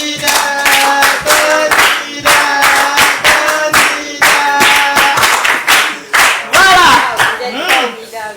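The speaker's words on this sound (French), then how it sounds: "est-ce qu'on peut applaudir très fort?" Audience at a live French stage event clapping loudly in steady rhythmic bursts, near and strong, with voices and cheers mixed in throughout.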